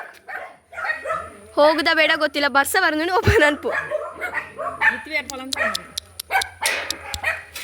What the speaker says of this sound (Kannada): ನಾಯಿ ಮರಿಗಳು ನಮಗೆ ಬೊಗಳ್ತಾ ಉಂಟು